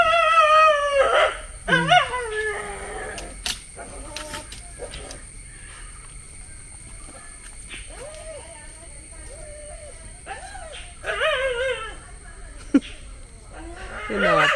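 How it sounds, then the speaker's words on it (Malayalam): Dog howls and whimpering yelps rise in several drawn-out, wavering bursts near the start and again toward the end, with a sharp bark, while people talk over and between them in a home setting. "നിന്നെ കണ്ടപ്പോ പട്ടി ഓടി വന്നിട്ടാണ് നീ പട്ടിയെ കണ്ടോടുന്നത്"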